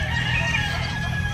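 Pet turkeys give a short, harsh call of about a second and a half, sounding close and fairly loud over a steady low background hum.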